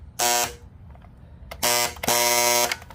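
A jammed Black & Decker Hedge Hog hedge trimmer runs in loud, harsh buzzing bursts: one short burst, a pause, then two longer bursts close together, nearby with no talking.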